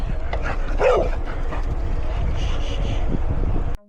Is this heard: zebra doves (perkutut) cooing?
no